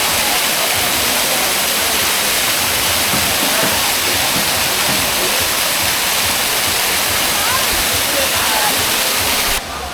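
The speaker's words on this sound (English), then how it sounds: "How beautiful is this waterfall though?" A roaring waterfall along the Hai Van Pass area between Hue and Hoi An in Vietnam, a dense, steady wash of falling water that stays loud and close for the whole stretch with no pauses.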